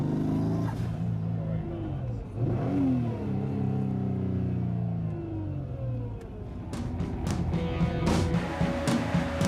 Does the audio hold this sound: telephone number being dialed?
no